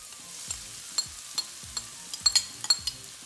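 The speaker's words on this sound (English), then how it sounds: "Add a little bit of oil. Goes in the onions." Shallots going into hot oil in a pan for Indian cauliflower Manchurian, with a faint, steady sizzle and a series of light clinks and scrapes as they are stirred.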